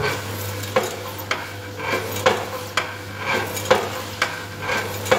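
A TOHO Japanese electric motor-driven hole punching machine drills through a stack of paper, giving a steady motor hum broken by repeated sharp scraping bursts at a regular rhythm, close and fairly loud.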